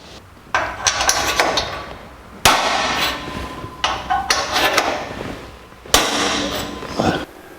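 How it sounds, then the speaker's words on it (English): A center punch is hammered into metal on a 1949 Chevrolet gasser drive shaft loop, giving four sharp, loud metallic strikes spaced a second or two apart, each ringing briefly before fading. "we're going to center punch the last two holes"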